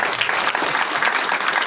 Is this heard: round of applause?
yes